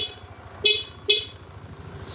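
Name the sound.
Yamaha NMAX scooter horn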